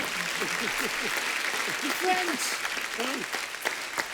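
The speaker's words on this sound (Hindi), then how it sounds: "आप सबकी जोरदार तालियों के बीच प्लीज वेलकम वेरी टैलेंटेड मुक्ति मोहन।" Steady applause from a TV comedy show studio audience fills the room, dense clapping throughout, with a voice speaking over it.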